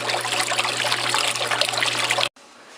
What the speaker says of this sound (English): just a little bit of warm water, and I'm just cycling the pump through.